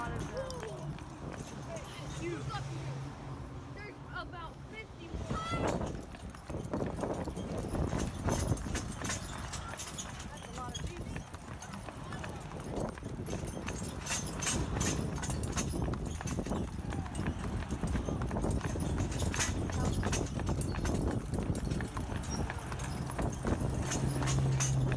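Carriage horses' hooves clip-clop steadily on pavement at a walking pace, close by, under people talking and some street noise throughout.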